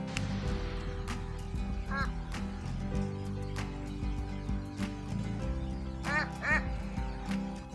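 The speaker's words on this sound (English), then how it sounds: "This is not a wild duck." A flightless domestic duck quacks in a few short, nasal bursts against a steady low background hum.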